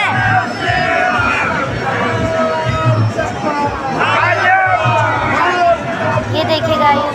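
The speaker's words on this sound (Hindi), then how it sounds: "देखिए कितनी ज़्यादा भीड़ हो रही है" A large crowd of devotees packed together at a religious event in Bageshwar, a dense, continuous roar of overlapping voices and shouting, loud and close throughout with no single voice standing out.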